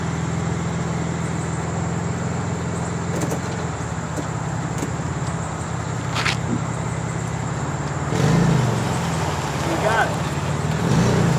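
An old Volkswagen that sat for ten years is towed by a Toyota Tacoma with a locked front wheel, giving a low rumbling drag and scrape under the truck's engine drone, with a heavier grinding surge near the end.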